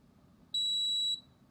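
A single sustained electronic beep from a Mealthy 9-in-1 MultiPot multicooker, clear and high-pitched, lasting about half a second over a quiet background.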